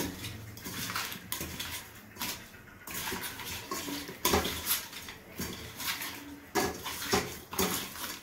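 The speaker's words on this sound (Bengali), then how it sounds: "মাছটা মাখিয়ে নেব হলুদ লবণ দিয়ে" Fish pieces being mixed by hand with turmeric and salt in a kitchen, giving steady wet squelching and clattering handling noises in close, uneven bursts, with a brief pause between rounds of mixing.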